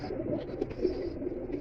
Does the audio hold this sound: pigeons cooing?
yes